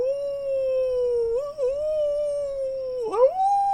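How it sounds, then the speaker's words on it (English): A dog or wolf gives one long, clear howl, close and steady in pitch with slight wavers, briefly dipping and then sliding upward near the end; no distinct barking is evident. "then it devolves into just manic barking. So there's either wolves or dogs or some canine out."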